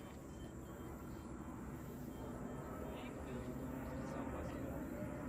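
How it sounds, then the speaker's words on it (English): A Southwest airliner passes overhead during an outdoor baseball game, a steady broad engine roar that swells slightly as it continues, with people talking throughout. "3-0, and here comes another plane."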